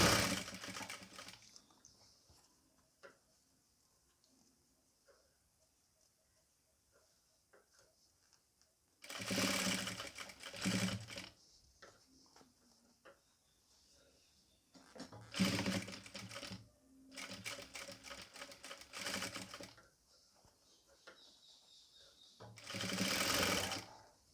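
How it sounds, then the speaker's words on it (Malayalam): A sewing machine stitches piping onto a nighty in several loud bursts of rapid mechanical whirring, separated by quiet pauses while the fabric is repositioned. "ഇതേപോലെ നമുക്ക് ഈ അറ്റത്തേക്ക് കൊണ്ടുവന്ന് തയ്ച്ച് നിർത്താം കേട്ടോ"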